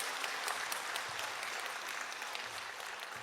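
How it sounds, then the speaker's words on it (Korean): Steady applause from a church congregation at a Korean Wednesday worship service, honoring the Hosanna choir. Even, sustained clapping fills the room at moderate volume and is somewhat distant, with no talk. "하나님께 감사의 영광의 박수 올려드립니다"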